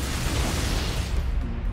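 A big explosion in the video game Halo CE Anniversary, a dense loud roaring boom that fills the moment and then thins as it fades out.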